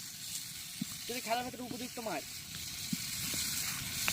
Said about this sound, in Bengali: আলু ভাজা শেষ, চিকেনটা দেওয়া হচ্ছে।